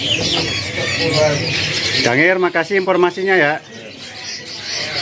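Caged songbirds, hand-fed young magpie-robins (kacer) at a stall in Pramuka bird market, chirp and coo sharply close by, with someone talking over them and a short run of rapid calls midway.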